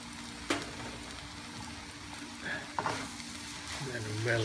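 Scallion and celery frying and being stirred in a pan for pansit bihon guisado, with a steady soft sizzle and occasional scraping knocks of the spoon against the pan.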